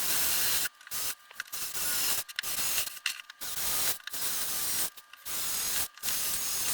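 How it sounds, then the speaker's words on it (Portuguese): A thin drill bit bores a pilot hole into wood: steady bursts of high whirring and grinding, broken by several short pauses as the drill starts and stops, close and alone. "com uma broca bem fininha, eu vou fazer um pré-furo aqui para a madeira que está recebendo o parafuso não estourar"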